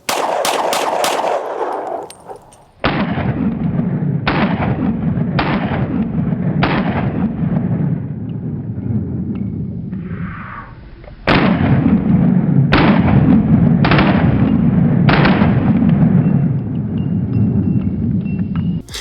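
A Sig P365XL Spectre Comp pistol fires Ultimate Ammunition 90-grain rounds at a range, about ten loud, sharp reports in an uneven string, each followed by a long echoing rumble, near and dominant with no talk.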